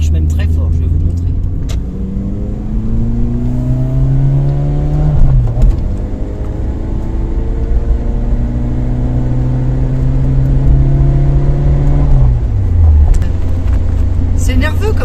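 A 1988 Renault GTS with its F2N carburettor engine accelerates hard through the gears, the engine note climbing steadily, dropping at each shift and rising again, loud and close inside the car.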